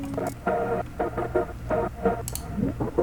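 A buzzy synth pulses in a choppy trance-gated rhythm with tape stop, repeating short stuttering bursts with a warbly, lo-fi texture and a low hum underneath.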